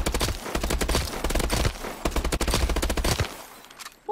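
Rapid automatic gunfire on the firing range in Call of Duty: Advanced Warfare, loud dense bursts of shots in quick succession with brief breaks, ending in a short pause and a mechanical reload sound.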